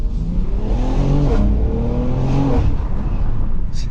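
A 2022 BMW X3 M Competition accelerating hard, its engine and turbo rising in a loud, close, continuous surge with stepped pitch climbs through gear changes and a brief whoosh near the end.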